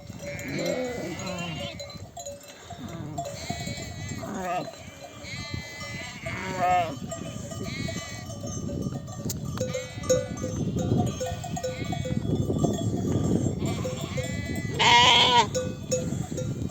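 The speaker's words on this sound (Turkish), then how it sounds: "Koyunlarımız güzelce su içiyor." Sheep on a highland pasture in Mudurnu, Bolu, bleat repeatedly while drinking water, the calls close and overlapping over steady flock noise.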